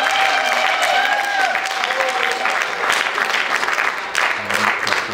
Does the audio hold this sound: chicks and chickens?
no